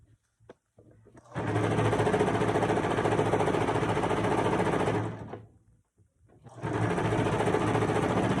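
A sewing machine stitching the hem of a fabric makeup bag, running in two loud, close, continuous bursts of rapid mechanical chatter separated by a short pause, with a few faint handling noises before it starts.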